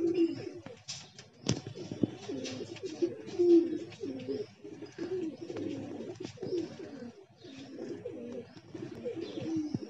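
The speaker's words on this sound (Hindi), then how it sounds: "ये इधर चल ही रहे कबूतर।" Several pigeons walking about coo softly and repeatedly, low murmuring calls overlapping at close range, with a sharp tap early on.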